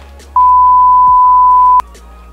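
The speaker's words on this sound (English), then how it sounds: "No, say it and I'll bleep it out." A single steady electronic bleep tone lasting about a second and a half, loud and flat, cutting over quiet background.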